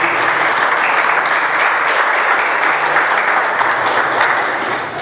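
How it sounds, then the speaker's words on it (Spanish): A church congregation breaks into loud, sustained applause during a sermon, a dense, even wash of many hands clapping close by for several seconds with no voices over it. "Un aplauso a Jesucristo."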